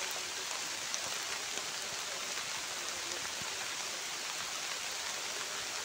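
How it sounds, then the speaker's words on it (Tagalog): Rain falls steadily outdoors while a dwarf coconut palm is being planted, a dense, even hiss with no distinct drops standing out and no voices. "Kaya umuulan na."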